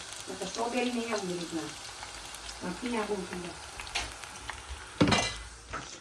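Snack rings fry in oil with a steady bubbling sizzle and a sharp clatter of a utensil near the end, while a voice talks over it.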